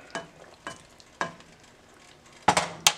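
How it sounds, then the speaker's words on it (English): Drained al dente pasta is stirred into a sizzling Italian stir fry pan, a low constant sizzle broken by several sharp utensil scrapes and clanks at uneven intervals, louder toward the end. "I've drained the pasta, and I'll put it in there."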